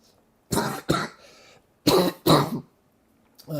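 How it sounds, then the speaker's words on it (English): Two pairs of harsh coughs, close and loud, each pair quick and rough, separated by a short pause. "A little cough there this morning"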